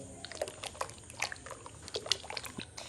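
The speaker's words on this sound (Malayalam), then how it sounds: "ഇനി അതിക്ക് ചൈന ഗ്രാസാണ് ഒഴിക്കണത്" Dissolved china grass (agar) is poured into a tender coconut water mixture with sugar and food colour, producing faint intermittent trickles and light splashes close by.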